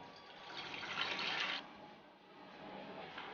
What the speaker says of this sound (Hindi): अब हम एक कुकर लेंगे और इसमें 1 गिलास पानी डालेंगे।